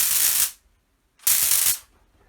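A homemade Star Wars-style electrostaff built from tasers fires two sharp, hissing electric crackle bursts, each about half a second long, separated by a short silence, close and loud.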